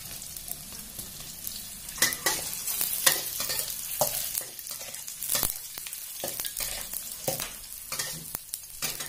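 Tofu stir-fried with shiitake mushrooms in a pan, spatula scrapes and clatters cutting in and out of a steady sizzle, close and fairly loud, no talking.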